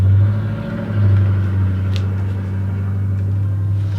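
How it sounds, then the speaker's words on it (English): A loud, rumbling car engine with no muffler drones steadily nearby, a deep growling exhaust with no talking. "That car does not have a muffler. It sounds really loud."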